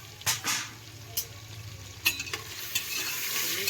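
Vegetables and tomatoes frying in a pan over mustard seeds and cumin, a soft continuous sizzle broken by a few sharp scrapes and clatters of stirring, close and fairly quiet.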